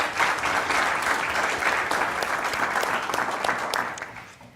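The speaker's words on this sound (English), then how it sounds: "I ask all of you to give these guys a round of applause" An audience at a conference panel session applauding, a dense steady burst of clapping from a seated crowd that holds evenly and then fades at the end.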